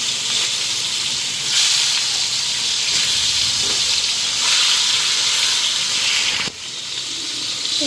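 Bitter gourd sizzles and hisses in a pan, a continuous frying crackle with a few brief shifts in intensity and a sudden drop near the end, no voices.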